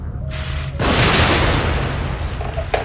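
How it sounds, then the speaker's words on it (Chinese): Gunfire in The Evil Within: after a quieter opening, a loud, sustained burst of shots and noise erupts near the one-second mark and rolls on densely, with a sharp crack near the end. "被开枪，"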